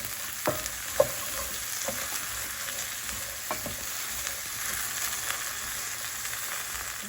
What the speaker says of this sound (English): You want to hear that nice sizzling sound.